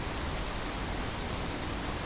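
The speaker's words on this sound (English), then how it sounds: "Time for a shower, even though I've been in the rain." Shower water runs in the video game Fallout 4 as a steady, even hiss of spray, faint and continuous, with no voices.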